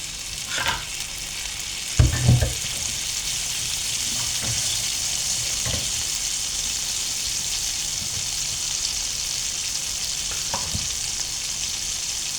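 Salmon fries in olive oil in a pan, a steady close sizzle and hiss with a few knocks and scrapes of utensils against the pan, the loudest early on, and no voices.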